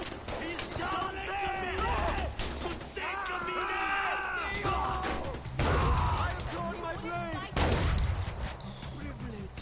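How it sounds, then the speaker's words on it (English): Gunfire in the video game Far Cry 4, bursts of shots and heavy impacts mixed with loud game voices and shouting, dense and continuous throughout. "Oh my god, who is shooting?"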